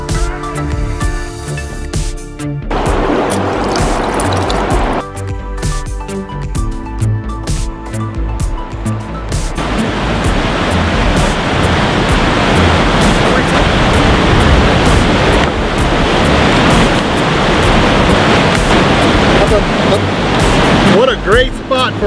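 The Athabasca River rushes near Athabasca Falls in the mountains as a loud, steady broadband roar of water. It starts partly masked by other tonal sounds, then becomes a continuous wash through the second half.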